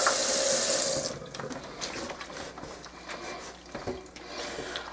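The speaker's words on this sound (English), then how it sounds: "And you can just keep washing out your measuring cup while you add more water." A tap runs into a sink while a measuring cup used for papier-mâché paste is rinsed out. The stream is strong at first and then drops to softer splashing, rubbing and knocking sounds close by.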